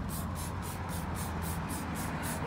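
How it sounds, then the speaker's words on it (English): Orange cleaning agent sprayed up under a car's wheel guards: a steady hiss with a regular series of pulsed spray bursts, about eight evenly spaced, fairly faint and with no voice over them. "Spray a bit of it liberally, actually right up under the guards."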